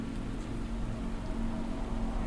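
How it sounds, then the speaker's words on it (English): Steady rain pours down in a dense, even hiss, quiet and continuous with no breaks. "For 5 years, the black rain poured without end"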